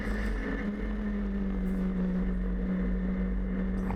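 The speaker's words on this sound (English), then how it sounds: "Really starting to push the car now." A 750MC sports special race car heard onboard at Snetterton circuit while being pushed hard, a loud continuous engine drone holding a steady pitch throughout.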